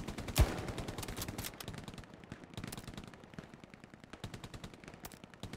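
Rapid bursts of automatic gunfire and single rifle shots crack through a World War II battle in Hell Let Loose, with one loud near shot early and steady staccato fire continuing, no talking.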